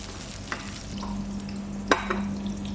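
Sliced onions sautéing in a hot pan, a quiet steady sizzle with a hum underneath and a couple of brief utensil clinks.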